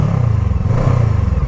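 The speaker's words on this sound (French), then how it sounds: "je vous fais écouter un petit peu son bicylindre." A twin-cylinder motorcycle engine idles close by, a steady low throbbing pulse with a slightly uneven beat.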